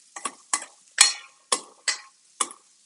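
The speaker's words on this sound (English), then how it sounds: "Warming it nicely. Give it a stir." A spoon stirring polenta as it warms in a pot on an induction stovetop: six distinct scraping strokes at a roughly even pace, close and clear against silence.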